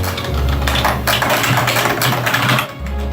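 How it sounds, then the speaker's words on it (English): Typing on a traditional computer keyboard, rapid clattering keystrokes in a close, continuous burst with a low hum underneath. "This is a test of a traditional keyboard."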